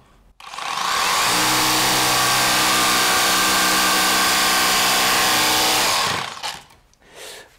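A Bosch Pro jigsaw blade saws through a fir board, a loud, steady, buzzing cut with a rasping tone that holds for about five seconds, then winds down and stops.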